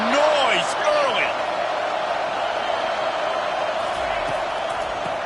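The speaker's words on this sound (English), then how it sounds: "This crowd bringing the energy and noise early." Football stadium crowd roars in a broad, steady wash of noise with a few whoops early on, sustained and distant, while speech runs over it.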